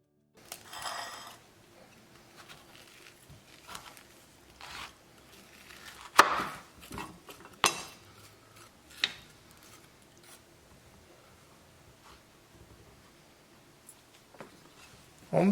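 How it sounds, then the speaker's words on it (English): A spoon scrapes and knocks inside a halved Japanese kabocha pumpkin, scooping out the seeds in a series of scattered, uneven scrapes and dull taps at close range, with quiet pauses between strokes. "So we're going to scoop out the seeds."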